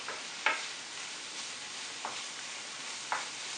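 Garlic being stirred in a pan for creamy chicken with bacon and mushrooms, a soft low sizzle broken by three brief utensil scrapes.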